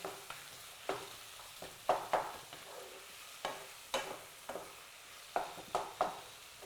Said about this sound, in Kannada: ಇದೀಗ ಚೆನ್ನಾಗಿ ಫ್ರೈ ಆಗಬೇಕಾ ಚೆನ್ನಾಗಿ ಫ್ರೈ ಇದು ಚೆನ್ನಾಗಿ ಫ್ರೈ ಆಗಿದೆ